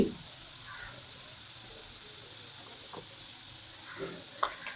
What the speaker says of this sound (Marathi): आणि आता लो वरती तळून घ्यायची आपल्याला म्हणजे आतपर्यंत व्यवस्थित तळी गेली पाहिजे